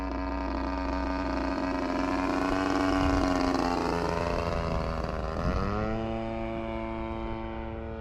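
A Hanger 9 Ultra Stick remote-control model airplane flies overhead, its small engine and propeller making a sustained buzzing whine that shifts in pitch as it passes, alone without speech.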